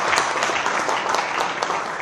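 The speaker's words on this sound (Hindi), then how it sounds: "ताली बजा करके।" Audience applause at a Bharat Scouts and Guides event in India, a dense, continuous burst of many hands clapping together, fairly loud and steady for a couple of seconds.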